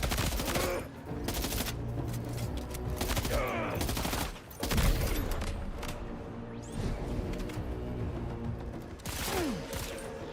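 Gunfire in the video game Death Stranding: bursts of rapid automatic shots and individual cracks mixed with whooshes over a steady game soundtrack, loud and dense throughout.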